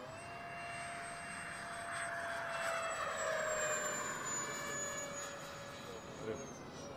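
An Xfly J65 twin-EDF radio-controlled jet flies past with a steady, high electric ducted-fan whine that swells and fades slightly, heard at moderate distance over outdoor background noise.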